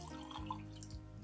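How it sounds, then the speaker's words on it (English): Red dense sugar-water solution poured gently onto the tip of a spoon for a water rainbow density experiment, giving a soft continuous trickle and drip, steady and close, with no talk. "So we're going to pour our red"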